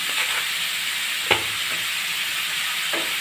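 Onions fry with turmeric and salt in a pan, giving a steady, bright sizzle throughout. A single stir or spoon knock cuts through near the middle, and there is no talking.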